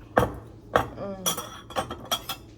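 Two metal spoons clinking against a cup while coffee is made, giving about six bright, close taps in an uneven rhythm with no talk over them.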